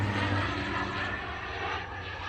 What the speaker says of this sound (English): And there goes the plane.